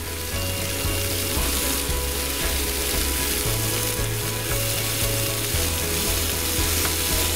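Fresh moose fillet fries in a pan at a hunting camp in British Columbia, giving a steady, dense sizzle with crackling and some scraping or stirring throughout, close and continuous, with a low mechanical drone underneath.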